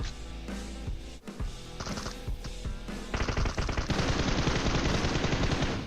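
Gunfire in the mobile battle-royale game PUBG Mobile: loud close bursts of rapid automatic fire, then continuous dense shooting that builds up to the end, with no speech over it.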